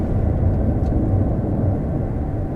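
A 2020 Honda Civic 1.6 takes a corner at about 80 km/h, a loud, steady low engine and road rumble filling the cabin with no break.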